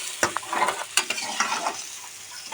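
Fish with drumsticks and spices being stirred in a hot pan, with a close, steady sizzle and scraping stirring strokes, no talk.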